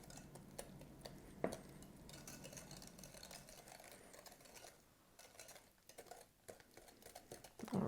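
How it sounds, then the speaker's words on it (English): Eggs being whisked into a chocolate brownie batter in a bowl: quiet, continuous scraping and stirring with a few light taps against the bowl, faint and close, with no talk. "whisk those eggs into the mixture"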